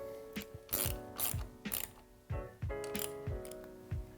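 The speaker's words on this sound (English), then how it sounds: "You can tighten this one up." A ratchet wrench clicks while tightening a small bolt on a Pure Air electric scooter brake, giving several close, crisp bursts of ratcheting strokes with short pauses between them, with no talking.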